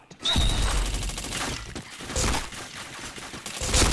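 Dense automatic gunfire rattles through a shooter video game in sustained bursts, with sharp impacts and shattering hits amid a chain of headshots, loud and constant throughout.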